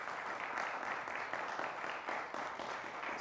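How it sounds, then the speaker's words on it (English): A small crew applauds at a library event, producing a dense, even wash of hand clapping that stays loud and steady for the whole span and sounds like a bigger crowd than it is. "how about a nice round of applause for the Sobos from South Beloit?"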